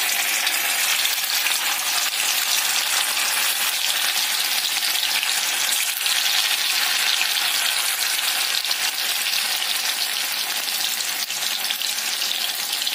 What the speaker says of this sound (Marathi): बारीक गॅसवरच आपण याला तळून घेणार आहोत